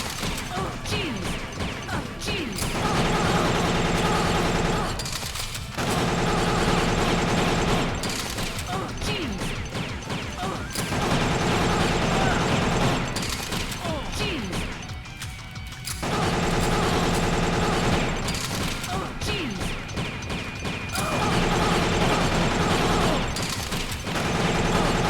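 Gunfire in Killer7 rattles in long, dense bursts of rapid shots with clanking mechanical noise, pausing briefly every few seconds before resuming.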